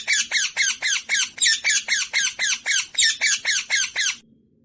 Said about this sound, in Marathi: parrot म्हणजे पोपट.